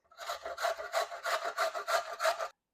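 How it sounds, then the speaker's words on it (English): A vegetable for classic beef borscht is scraped across the large holes of a kitchen grater in about eight quick, even back-and-forth strokes, close and steady, with no voices. "Next step is to actually grate it on a large grate size."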